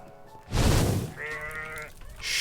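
A goat in the Minecraft video game bleats once, a short nasal wavering cry following a burst of noisy rustle, close and fairly clear.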